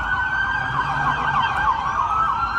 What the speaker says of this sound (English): Police are on the way. Look, you see the sirens right there?